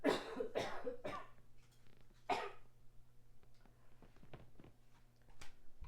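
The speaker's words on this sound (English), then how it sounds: "excuse me, you guys, about the coughing" Several quiet coughs and throat-clearing sounds from a person near a microphone, a cluster of bursts early on followed by softer scattered ones over a low steady hum.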